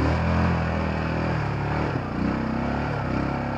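Motorcycle engine idling and running steadily close by, a continuous low rumble throughout with no voices over it.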